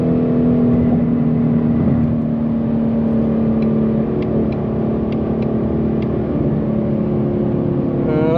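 A Ford Mustang with a 10-speed transmission cruises steadily, its engine giving a loud, even drone with a constant low hum throughout and a slight rising whine at the end.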